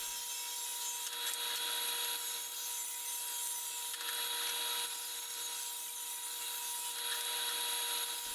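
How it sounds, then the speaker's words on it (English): Walnut boards ripped lengthwise on a saw set against a fence, giving a steady, continuous loud cutting whine with little variation throughout. "I can adjust my fence to 2 inches and rip down the boards."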